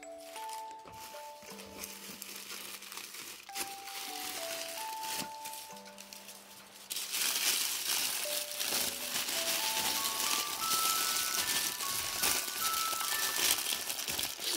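A parcel box of Christmas toys is opened with crinkling and rustling of packaging, growing louder partway through, alongside light rattles and faint tonal notes in the background.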